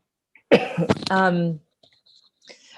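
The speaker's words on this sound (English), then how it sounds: "I've got an itchy cough" A single raspy cough, followed by a brief voiced throat sound, close to the microphone, then near silence.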